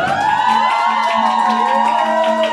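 An audience at a mariachi farewell serenade for Felipe cheers loudly and continuously, with rising whoops and shouts.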